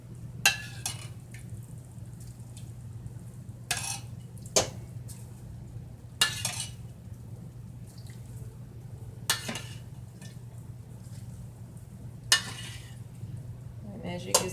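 A utensil scrapes and clinks against a pot of candy-coated popcorn at irregular intervals while the coating softly sizzles underneath, with a low hum in the background.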